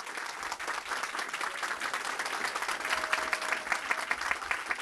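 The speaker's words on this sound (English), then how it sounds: "Let's have a round of applause for our girls." An audience applauds steadily for a group of girls, including a flag twirler, at a Montclair event, with dense clapping and no talk for about five seconds.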